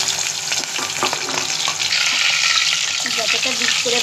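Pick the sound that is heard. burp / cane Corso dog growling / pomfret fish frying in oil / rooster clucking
pomfret fish frying in oil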